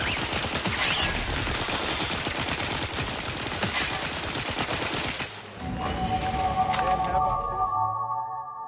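Rapid gunfire from the video game Outer Worlds 2 on Very Hard difficulty, a dense, loud burst of shots that runs continuously for several seconds, then breaks off into electronic tones and lingering mechanical sounds.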